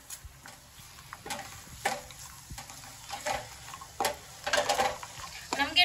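Dry fruits stirred in thickening sugar syrup for a rose dry-nut sweet, with repeated scraping strokes of a spoon against the pan and a soft bubbling sizzle, growing busier toward the end.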